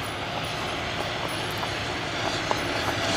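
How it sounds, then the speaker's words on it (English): Train passing on a railway in Rockwood, Tennessee, a continuous loud rumble with rhythmic wheel clicks and faint squeals, and no talk. "Here comes the train."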